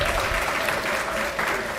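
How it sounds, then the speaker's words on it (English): A university audience at a teaching and learning festival gives a big round of applause, a short burst of thick, continuous clapping from many hands at close range. "Can we give a big round of applause?"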